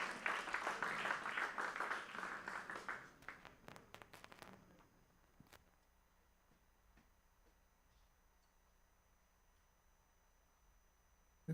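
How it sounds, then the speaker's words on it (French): Congregation applause during a Sunday morning church service starts as dense clapping, thins into a few scattered claps after about four seconds, then gives way to near silence. "sous vos applaudissements"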